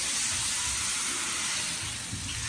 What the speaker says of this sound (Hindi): हमारा साग तैयार हो रहा है, तड़का लग रहा है जी